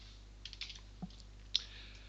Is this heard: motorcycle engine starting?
no